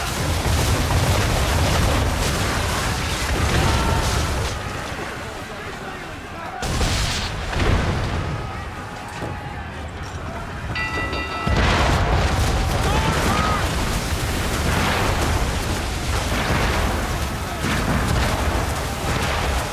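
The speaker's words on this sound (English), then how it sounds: "Gotta avoid the mortars, sir!" Heavy mortar blasts in a combat video game, deep booming explosions landing repeatedly over about twenty seconds, loud and close, with rumbling gunfire and shouted voices mixed in.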